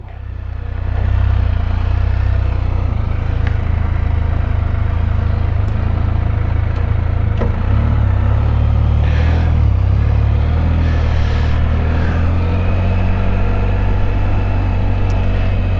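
A 2024 Can-Am Spyder F3 with a service fault code rides on the road in traffic on a cold day, its engine a steady, loud low drone with wind rush and no talking.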